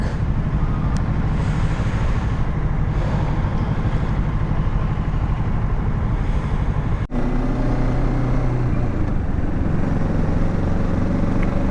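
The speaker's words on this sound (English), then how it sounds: "Back to traffic again." Bengaluru road traffic from the saddle of a moving Kawasaki Z650 motorcycle: a steady, loud wash of engine drone, wind and surrounding vehicles, continuous throughout, with a brief sharp click partway through.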